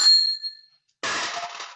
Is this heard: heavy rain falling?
no